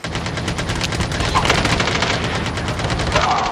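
Rapid automatic gunfire in the battle royale mode of the mobile shooter Call of Duty Mobile, dense overlapping bursts rattling continuously and fairly loud for the full few seconds, with no talk over it.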